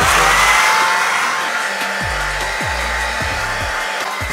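A Remington hair dryer on its low heat setting blows with a loud, continuous whooshing drone, while intermittent rubbing and scraping strokes sound close by.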